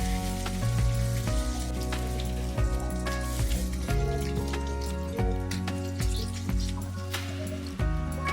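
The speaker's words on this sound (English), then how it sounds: "Once it's hot, add the paneer pieces and saute them until it's slightly golden brown" Paneer pieces fry in a little hot oil in a pan, a steady close sizzle with crackles and spits, overlaid by a background music track with no talking.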